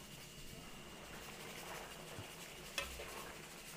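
A pot of food being stirred during cooking of a Filipino fiesta meal, a faint steady scraping and swishing with one brief clink of the utensil against the pot.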